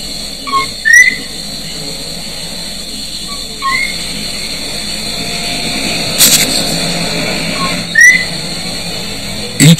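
A coqui frog calls three times, each a short two-note chirp rising in pitch, spaced several seconds apart over a constant background hum and distant noise.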